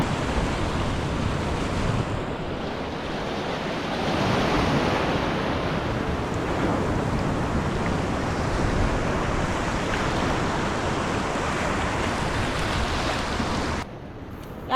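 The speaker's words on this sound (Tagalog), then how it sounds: "Laki ng alon, ha?" Large sea waves wash and break in a continuous surging roar, mixed with wind buffeting the microphone from an open boat at sea, with no voices.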